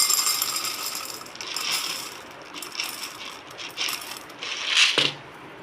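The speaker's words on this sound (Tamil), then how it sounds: "கொண்டக்கடலையை கொட்டிக்கலாம்." Dried chickpeas, about half a tumbler, poured into a container while soaking rice and lentils for adai batter: a bright, continuous hiss-rattle of hard grains cascading, rising in bursts and ending in a final louder clatter.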